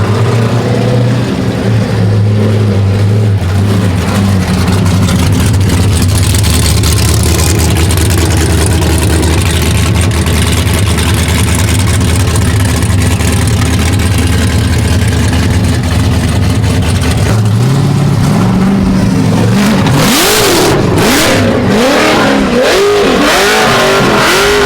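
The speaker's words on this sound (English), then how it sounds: "we're gonna go do a little Burnout real quick" Nissan R34 drift car roaring through a sustained high-rev burnout, loud and close, its heavy engine drone holding steady for long stretches before dropping into choppy, fluctuating revs and bursts of tire noise near the end.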